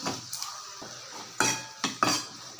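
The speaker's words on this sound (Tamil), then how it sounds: "இப்போ இதையும் நல்லா இதில் வதக்கிடலாம்" Squeezed tomatoes sauté in a pan for garlic chutney, heard as a few sharp spatula-on-pan clanks and scrapes over a soft background sizzle.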